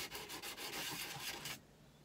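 Steel chisel back rubbed across a sharpening stone to remove the burr, a brief close rhythmic scraping of rapid back-and-forth strokes that stops abruptly.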